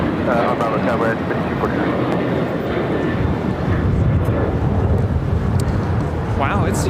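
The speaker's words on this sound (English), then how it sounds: "United Dreamliner is making that wide turn to the south" A United Boeing Dreamliner airliner turns over LAX, its engine roar a steady, broad rumble heard from a distance, with wind buffeting the microphone and people talking over it throughout.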